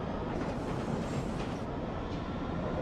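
A London Underground tube train rumbles steadily and fairly close, with a constant dense roar and some faint rattling. There is no speech over it.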